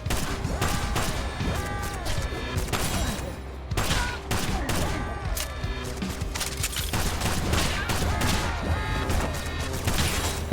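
Rapid, dense sniper and rifle gunfire rattles through the Kill the Crows video game, with sharp overlapping shots and impacts firing almost continuously at loud, close range.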